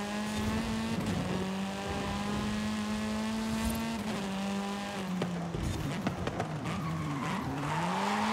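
A loud, continuous race-car engine in a Horizon driving game, its pitch rising and falling under shifts while the tires squeal through long slides, with no speech.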